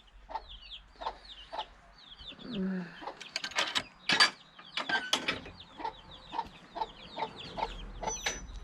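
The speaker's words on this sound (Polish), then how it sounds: "Kurczaki grasują." Chickens cluck and chatter in a busy, irregular series of short calls, with a few louder squawks mid-way, fairly close.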